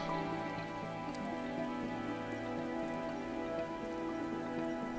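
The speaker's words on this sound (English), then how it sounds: "It's raining again." Steady rain in the video game Surviving Mars pours continuously over a constant droning hum, an even wash of patter with no pauses.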